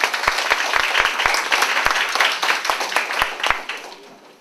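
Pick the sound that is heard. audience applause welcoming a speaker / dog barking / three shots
audience applause welcoming a speaker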